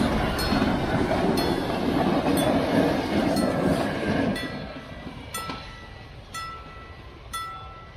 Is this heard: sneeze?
no